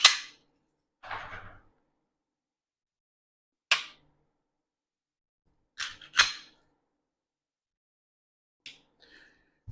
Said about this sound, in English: drop the mag out